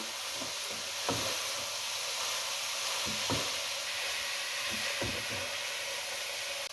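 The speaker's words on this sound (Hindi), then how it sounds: "गाजरों को भून लें" Grated carrots frying in desi ghee with green cardamom for gajar halwa, a steady loud sizzle with intermittent scraping stirs of a spoon against the pan.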